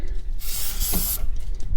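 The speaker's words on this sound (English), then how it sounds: "I'll do a bit of a spray down the back here where they've been leaking." A short burst of aerosol brake cleaner spray hisses loudly for under a second, close up, with faint background noise around it.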